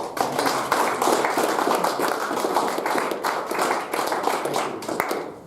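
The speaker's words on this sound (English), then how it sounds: "I think they deserve a round of applause" An audience at a morning business briefing on commercial drones in agriculture claps steadily after a presentation, a dense, continuous round of applause from a modest crowd filling the room.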